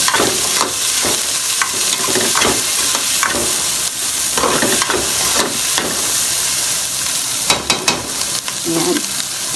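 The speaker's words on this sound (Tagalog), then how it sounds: "sasangkot sa po natin ang ating liver and then balon-balunan" Liver and chicken gizzard sauté in a hot pan for lomi, giving a steady loud sizzle broken by repeated stirring scrapes, with no voices.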